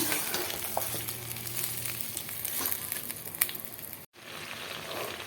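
Hot tempering is poured over a Madhampatti-style chicken fry and stirred in, giving a loud, steady close sizzle with scraping stir sounds and a brief drop near the end.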